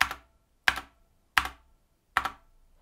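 Four single key presses on an RGB mechanical keyboard with linear red switches and a metal plate, each a short, close, muted clack spaced about two-thirds of a second apart, with quiet gaps between.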